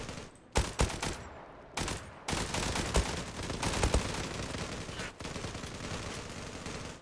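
An HK G3 rifle in the Zula shooter firing rapidly: sustained full-auto bursts split by short pauses, loud and close, with a few sharper shot peaks and no talking.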